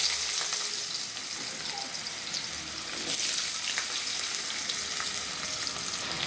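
Potato pieces fry in hot oil seasoned with panch phoron, making a continuous close, dense sizzle with an even level throughout and no talking.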